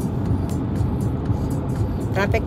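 Road traffic flows near the Iron Worker Bridge, a steady broadband rumble of passing cars and buses with a brief higher squeal near the end; people talk faintly underneath.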